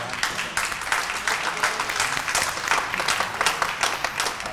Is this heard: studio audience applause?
yes